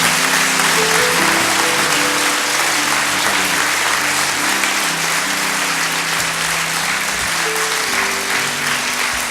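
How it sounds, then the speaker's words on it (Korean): Church congregation at a pastoral ordination service applauding in a loud, continuous wash of clapping that holds steady throughout, with a faint murmur of voices underneath. "맥키니 교회 우리 박수로 한번 나누겠습니다."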